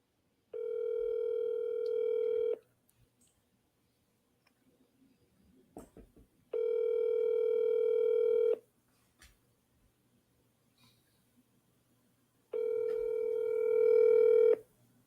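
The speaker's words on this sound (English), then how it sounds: "let's call Jeff" Telephone call to a real estate agent: three long, loud ringback tones at even intervals, each about two seconds, separated by quiet gaps with faint background clicks and no talk.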